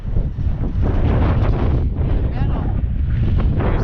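Strong wind buffets the microphone at an open desert amphitheater in Ash Meadows National Wildlife Refuge, a loud, constant low roar with gusty rumble and no clear speech.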